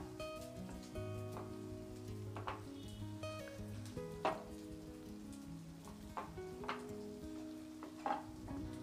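Cluster bean (gawar phali) sabzi cooked without onion or garlic sizzles softly in a pan, with faint, steady frying and occasional scraping stirs, all quiet and with no talk.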